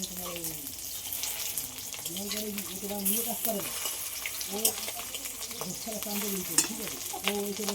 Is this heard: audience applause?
no